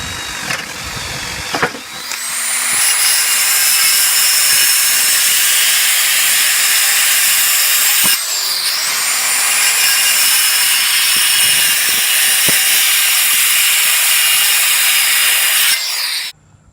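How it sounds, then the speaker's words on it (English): A power drill bores holes into the corners of a single piece of wood for a primitive Adirondack-style chair. It runs in two long, loud, steady bursts of high-pitched whine and hiss, with a short pause between them. "So we're going to put drills in the corners to make it easy."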